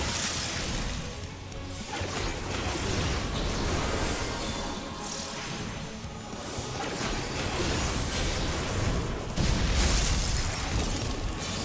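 Explosions going off during a Final Fantasy XIV dungeon fight, a steady dense wall of blasts, crashes and whooshes with no clear gaps, heard alone without talk.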